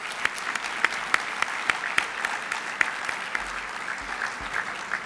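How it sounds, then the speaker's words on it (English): An audience at a business program for graduating contracting firms applauds steadily, with the dense, sustained clapping continuing evenly through the whole stretch and a few sharper claps standing out. "So we can take a moment to give those folks a round of applause."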